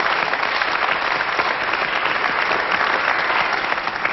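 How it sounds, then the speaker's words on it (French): Studio audience applauding a guest, Philippe Guérin, on a French TV show, continuous even clapping throughout at moderate loudness. "Bon, on l'applaudit, Philippe Guérin."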